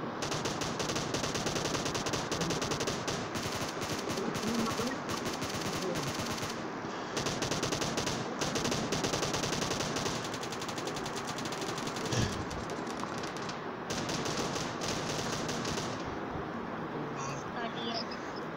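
Sustained automatic gunfire in the mobile battle-royale game PUBG Mobile, a dense near-constant rattle of rapid shots lasting the whole stretch, loud and continuous, with voices talking over it.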